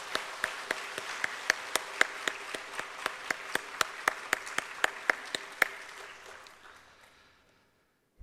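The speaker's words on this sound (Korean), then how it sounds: "우리 선교사님께 다시 한번 감사와 격려의 마음을 담아 박수하도록 하겠습니다" A church congregation at a Wednesday evening service claps for a missionary in a fairly faint, evenly paced series of distinct claps that thins out and fades to silence after about six seconds.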